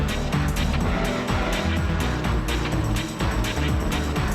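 Honda and Nissan race cars battle down the Corkscrew in a racing video game, engines droning loudly and continuously with layered revs and brief tire noise, no talk over it.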